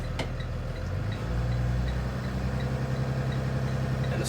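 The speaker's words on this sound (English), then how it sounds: "We're going to rev the engine at approximately 1200 RPMs, and we're pulling against the spring brake" A school bus diesel engine revs to about 1200 RPM while pulling against its engaged spring brake, a steady low rumble that rises and then holds level, close and continuous with no talking.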